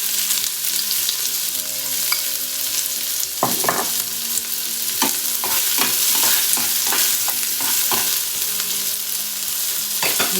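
Chopped onion sizzles in a teaspoon of oil over a low gas flame, a continuous close crackle with frequent stirring scrapes and clinks, no voices present.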